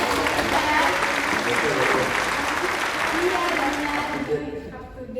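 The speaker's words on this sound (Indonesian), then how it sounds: "Keren, tepuk tangan gak sih?" Sustained applause from a crowd fills the space steadily and loudly, holding for several seconds before thinning out and fading near the end.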